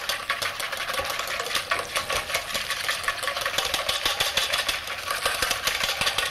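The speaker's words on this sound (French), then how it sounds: "Nous allons fouetter la crème jusqu'à ce qu'elle soit dure" Cream being whipped with a whisk in a French kitchen demonstration, a fast, steady scratchy rattle that runs continuously and evenly throughout, close and fairly loud.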